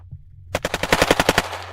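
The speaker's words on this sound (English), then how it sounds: "Shots fired." A rapid burst of about ten gunshots cracks out loud and close in an even, machine-gun-like rhythm, after a brief quiet lead-in.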